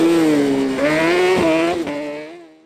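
Speed cars and other autograss racers roar around a dirt oval at an Aghadowey race meeting, a loud close engine note rising and shifting as the cars pass, with no talk heard.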